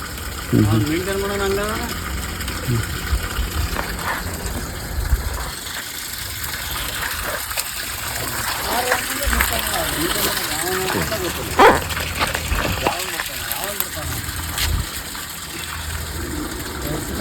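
Water gushes steadily from a burst pipe under a Jal Jeevan Mission water supply project, a constant rushing wash under loud conversation among several men, with an engine idling and a dog barking now and then.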